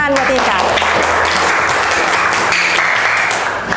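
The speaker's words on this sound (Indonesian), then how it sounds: "Terima kasih teman-teman, beli tepuk tangan buat Inka." Steady applause from a seated audience at a university teaching session, dense clapping running unbroken for about four seconds with voices mixed in.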